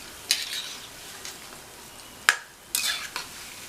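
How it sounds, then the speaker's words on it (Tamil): Raw banana 65 pieces frying in oil and stirred over a low flame, giving a soft steady sizzle broken by a few sharp scraping clicks of the spoon against the pan, with no one speaking. "குறைவான தீயில் வச்சு பொறுமையாக இந்த மாதிரி பரட்டி விட்டு நம்ம பொரித்து எடுக்கணும்"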